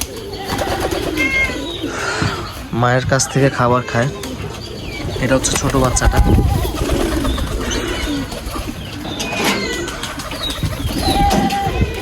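Pigeons, including young chicks fed by their mother, coo softly in a loft with occasional chirps and wing flutters, heard under someone talking over them for most of the time.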